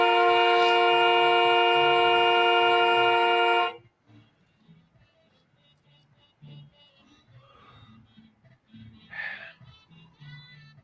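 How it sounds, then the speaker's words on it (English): A loud, steady car horn blares continuously for several seconds and then cuts off abruptly, followed by quiet room sounds and faint movement. "You can't just honk and get your way."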